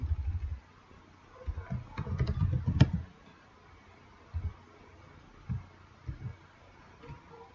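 Soft keystrokes on a computer keyboard, a dense burst of taps followed by scattered single presses, fairly quiet and close with no voices.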